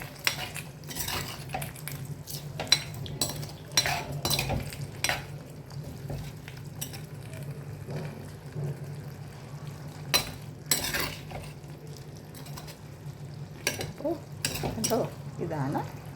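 A curry is stirred in a pot after a tempering of mustard seeds, chilies and curry leaves goes in. A spoon clinks and scrapes against the metal in irregular bursts over a soft, low sizzle.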